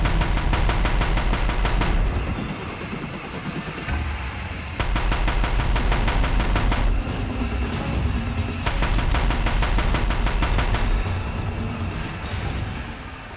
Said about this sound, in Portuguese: Vamos ver se a gente consegue atirar